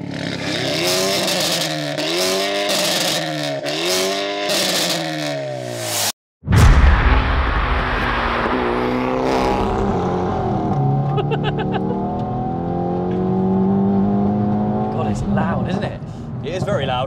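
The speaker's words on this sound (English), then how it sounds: "Yeah, that's very loud. Those downshifts are hilarious." A stage 2, 400bhp Hyundai i30N with a DCT gearbox revs hard in rising and falling sweeps, then a sharp crack on a downshift, followed by a loud, sustained engine drone pulling away on dry roads.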